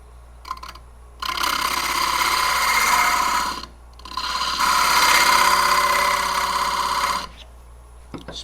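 Gouge cutting a recess into spalted oak on a wood lathe: two sustained, rough, rasping cuts of a few seconds each over a steady low motor hum, with brief quieter pauses between them.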